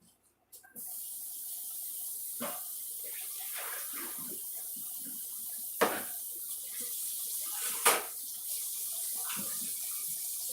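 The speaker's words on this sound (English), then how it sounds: "Trying to fix me some soapy dishwater." A kitchen sink fills with running tap water for soapy dishwater, a steady gentle splashing stream close by, broken by a few soft clunks and knocks of handling.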